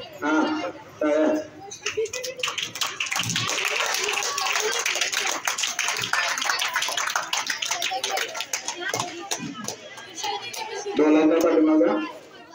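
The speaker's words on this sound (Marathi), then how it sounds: "हा फक्त टाळ्यांचा आवाज आला पाहिजे." Sustained, lively clapping from a crowd at a school Women's Day program fills most of the stretch, with a speaker's voice briefly heard at the start and again at the end.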